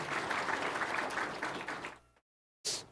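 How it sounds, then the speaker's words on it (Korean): A church congregation at a Korean Sunday morning service claps together for about two seconds before the sound cuts off, then the applause briefly resumes. "박수 해주세요"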